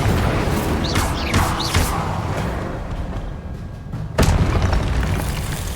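Confringo and Incendio spells blast in Hogwarts Legacy, a loud, dense run of booming bursts with a sharp, heavy impact near the end, close and continuous amid the fight's clatter.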